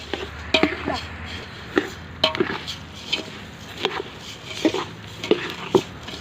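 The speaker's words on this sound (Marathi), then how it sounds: "प्रथम आपण चांगले धने भाजून घ्यायचे आहेत" Coriander seeds are dry-roasted in a pan and stirred, giving irregular scraping and clinking taps of the utensil against the pan, with quiet talk in between.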